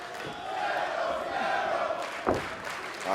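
A wrestling arena crowd chants and cheers for the luchador Pentagon during a match, a sustained roar of many voices with a rising chant at mid-distance and a sharp thud near the end.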